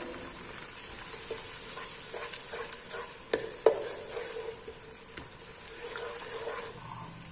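Crushed ginger fries in oil in a pan for matar pulao, a soft steady sizzle with a few louder stirring clicks and scrapes near the middle, fairly quiet and close.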